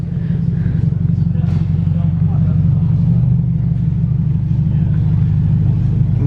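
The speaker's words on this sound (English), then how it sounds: "Got the Subaru coming in." A Subaru car's engine rumbles steadily at close range as it drives in, a low continuous drone with faint voices in the background at a classic car meet.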